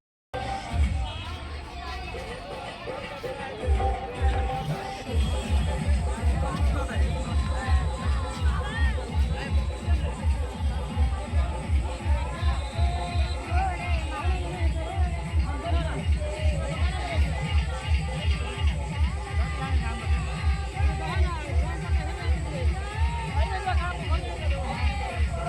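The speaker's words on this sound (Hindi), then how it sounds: "देखिए बहुत भीड़ चल रहा है।" A large, busy crowd gathers at a mundan head-shaving ceremony, a steady hubbub of overlapping voices and chatter with a repetitive rhythmic thumping running underneath throughout.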